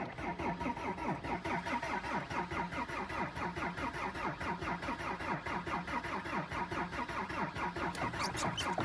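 A diesel car engine cranks steadily without catching, the starter churning in a fast, even rhythm for the full length, loud and close, as if the car is low on diesel fuel.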